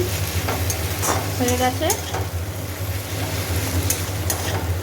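Cooked rice frying in lightly heated oil is stirred, giving a continuous close sizzle with scraping stirs, while a voice speaks briefly over it.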